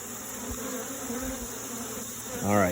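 Honey bees being added to a weak hive drone in a steady, close, continuous buzz, with a faint clunk of equipment and a short low hum swelling near the end.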